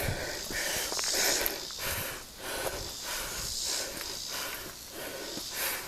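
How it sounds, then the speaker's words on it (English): Heavy rhythmic breathing of a hiker on a rough trail with steps near a pit in Scottsboro, Alabama, steady panting and sniffing close to the microphone for the whole stretch, no talk. "Some people's gonna like the heavy breathing."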